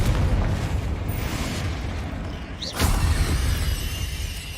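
A Confringo fire spell explodes in Hogwarts Legacy: one sharp burst near the middle rises out of a continuous low rumble of game ambience, then settles back into the background roar.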